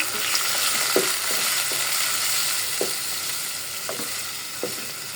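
Onions browned lightly in a pan, with a ground tomato, onion, garlic and green chilli spice paste going in for black gram lentils, sizzle steadily up close while a spoon scrapes and stirs in a few soft knocks. Nobody speaks.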